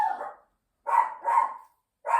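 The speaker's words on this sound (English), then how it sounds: "Pardon my dog." A dog barks indoors, four sharp, loud barks in quick succession with short gaps between them, close to the microphone and heard alone.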